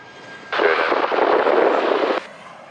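Aircraft engine roar from a plane landing at Montego Bay airport in Jamaica, a steady loud rushing whoosh that swells in, holds for under two seconds, then cuts away to quiet.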